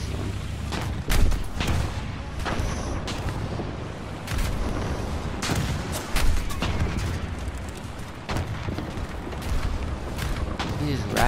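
Cannon fire from British tanks in the War Thunder video game: several heavy booming shots spaced a few seconds apart, loud and close, with mechanical clanks and rumble in between while a player talks over the action.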